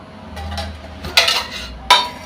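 Metal kadai set down on a home stovetop for tomato chutney, giving two sharp clanks about a second apart over a low background hum, with faint scraping between.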